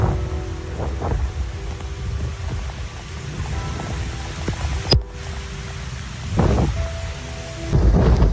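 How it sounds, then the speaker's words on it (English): A torrential rainstorm pours down in Tokyo with steady heavy rain and several rumbles of thunder, one loud crack partway through. "these storms can last over an hour, unleashing up to 100 millimeters of rain per hour"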